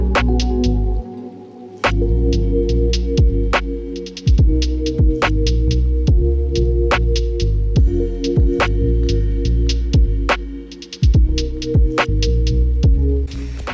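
An electric mixer beats softened butter with light brown and cane sugar, a steady motor hum broken by repeated sharp clicks and taps of the beaters against the bowl, loud and close.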